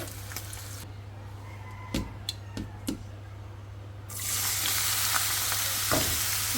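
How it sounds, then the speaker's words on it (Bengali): Chilies frying in a pan: a steady low hum with a few soft clinks and stirs, then a loud, continuous sizzle bursts up in the second half as the frying intensifies. No one speaks. "এখানে হলো মরিচ ভাজা নিচ্ছি আমি"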